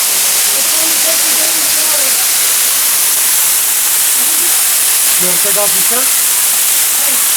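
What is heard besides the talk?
waterfall roaring, heard from behind it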